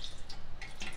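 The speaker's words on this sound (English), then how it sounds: "I'm gonna pour it down on the side of the roast" Homemade broth trickles and drips as it is poured down beside a herb-crusted tri tip roast, a short, soft liquid splashing with no talking.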